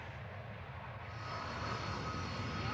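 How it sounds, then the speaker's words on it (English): British Harrier jump jet engines on their final flight from a UK base, a loud steady jet roar with a whining high tone, building slightly and continuous throughout with no voices. "This is the very last time that British Harrier jump jets will take off from British soil."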